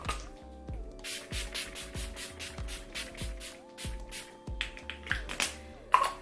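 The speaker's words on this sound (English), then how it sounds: "let me put in setting spray" Repeated short hissing bursts of a makeup setting spray bottle, about a dozen quick spritzes in an uneven rhythm, close by with faint background music.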